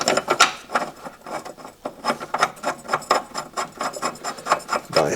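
Top bolts of a rear shock absorber on a 2015 Vauxhall Corsa E are turned in by hand, making a rhythmic, close metallic scraping and rasping that repeats steadily throughout.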